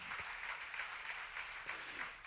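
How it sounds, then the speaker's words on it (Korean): Steady applause from a congregation at a church service, a soft, even patter of many hands clapping at moderate distance for a couple of seconds. "박수로 하나 돌리시면"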